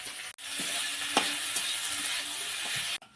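Shredded cabbage fries in hot oil with green chilli, onion, salt and turmeric, giving a steady close sizzle with occasional stirring clinks, ending abruptly.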